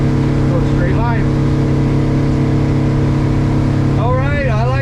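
A 2025 North River Coho aluminum boat's engine runs steadily on the water, a loud continuous drone with rising and falling whine near the end, and a person talks briefly over it.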